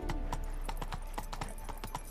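Roach, the horse in The Witcher 3: Wild Hunt, clip-clops at a steady walking pace, hooves landing in an even rhythm, close and clear over a low game ambience.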